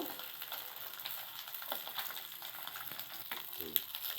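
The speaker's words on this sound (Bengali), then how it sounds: "এবার মাছটা লাল লাল করে ভেজে নেব।" Fish frying in oil, a faint and continuous crackling sizzle with small pops and an occasional soft scrape, heard alone without any voices.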